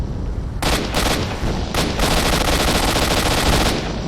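Gunfire in the video game S.T.A.L.K.E.R.: Shadow of Chernobyl, a loud, dense burst of shots that starts abruptly and roars on almost continuously with brief breaks, with no talk over it.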